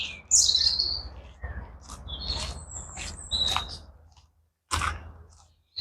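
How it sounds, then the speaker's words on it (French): Birds chirp and tweet outdoors in a green park, bright calls scattered in bursts over a low background rumble, with a pause near the end before another call. "Je parle plus parce qu'on entend les oiseaux."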